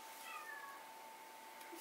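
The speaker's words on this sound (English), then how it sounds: "Kitty, in the distance." A cat meows at a distance, faint rising and falling calls early on over a quiet room with a steady tone, ending in a brief louder click.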